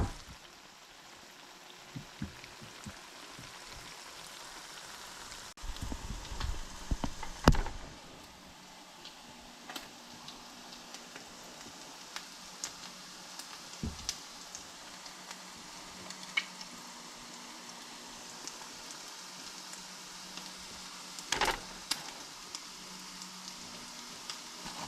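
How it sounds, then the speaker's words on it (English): Salmon patties fry in a skillet with a steady, quiet sizzle and soft crackle, broken by a few brief louder clicks and bumps of handling, with no talking. "I got the salmon patties in the skillet."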